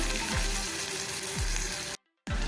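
Chopped ginger and garlic, with onion, sauté over a low flame in a pan for a dry potato and capsicum dish, giving a steady close sizzle with soft stirring scrapes and a brief cut to silence near the end.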